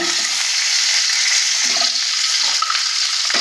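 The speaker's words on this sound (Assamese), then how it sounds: "এতিয়া পিঁয়াজ দি দিছোঁ" Whole onions drop into hot oil for a fish curry, giving a steady, loud broadband sizzle that runs without a break, with a few soft stirring bumps underneath.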